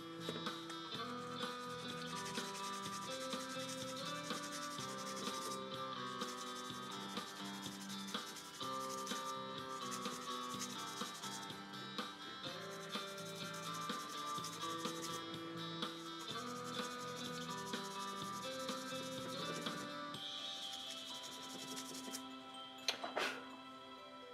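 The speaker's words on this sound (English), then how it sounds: "I'm going to do one quick sanding again" Steady rhythmic rubbing of sandpaper on a wooden Harley mallet by hand, close up, with quiet music playing underneath the whole time.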